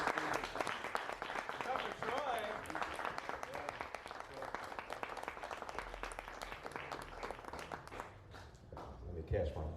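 An audience claps for the performer at a music session, dense applause running throughout, with a brief voice and some movement noises near the end.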